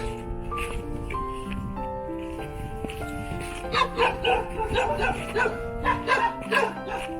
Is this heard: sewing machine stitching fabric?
no